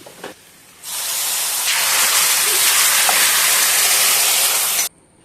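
Hot coconut oil with mustard seeds, sliced shallots and dried chillies is poured into a curry, setting off a loud, steady, broad sizzle that bursts in suddenly, holds for about four seconds, then cuts off abruptly.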